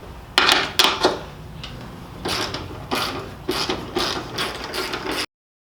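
A 3/8-inch drive ratchet with a 14mm socket and extension clicks in close, quick bursts while removing bolts during a turbocharger install, with short gaps between strokes.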